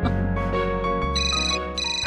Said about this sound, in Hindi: अरे मीना, जरा फोन देखना।